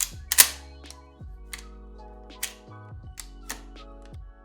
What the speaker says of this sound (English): Cycle the pump and the bolt to the rear and about halfway forward again